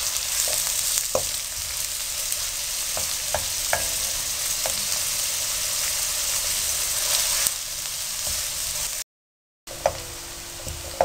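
Onions frying in a pan until they turn light brown, a steady close sizzle with occasional stirring scrapes and clicks, one brief dropout near the end.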